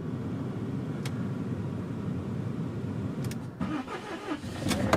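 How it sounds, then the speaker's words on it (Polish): A van's engine starts on a cold, foggy morning, cranking briefly and then catching into a steady idle that rises slightly toward the end, heard close with no talk. "Bus odpali na pewno."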